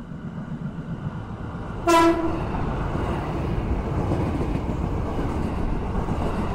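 The Argo Lawu train rumbles steadily as it arrives at a station in Indonesia, and a short sharp horn blast sounds early on over the continuous rolling noise.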